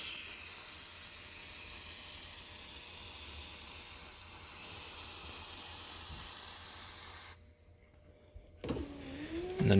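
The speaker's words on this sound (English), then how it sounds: "And then just run the window up and down a few times to distribute it." Rear power window of a 1998–2009 Ford Focus being run up and down, a long steady motor whine with hiss, a brief stop, then a clunk as the motor reverses near the end.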